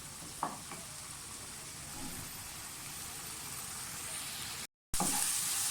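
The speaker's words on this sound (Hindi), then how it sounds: "मसाला हमारा अच्छी तरह से भून गया।" Spice masala frying in a pan for a cabbage dish, a continuous moderate sizzle with a couple of brief stirring scrapes and a short dropout near the end.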